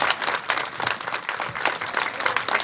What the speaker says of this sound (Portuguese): E para Jesus Cristo, Nossa Senhora e São Pedro, uma salva de palmas.